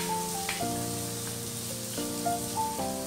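Chopped green chillies and curry leaves sizzle in hot oil with a steady, soft frying crackle, while a tonal drone in the background holds throughout.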